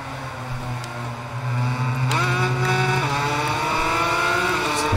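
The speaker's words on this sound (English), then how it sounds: "Rev limiter there by going down too many gears" A 250cc Grand Prix motorcycle in RIDE 5 screams at high revs and its engine bounces off the rev limiter after too many downshifts, a loud sustained whine with stepped pitch shifts.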